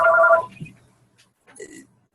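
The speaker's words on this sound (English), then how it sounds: "This ringing will stop in a moment." A telephone ringing during an online group video call, heard as two short, faint electronic ring bursts separated by a brief pause, fairly close and otherwise quiet.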